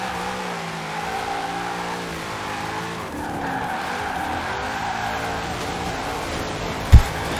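Car tires skidding while drifting in Forza Horizon 4, a sustained squealing screech over a revving, shifting engine note, with a short sharp thump near the end.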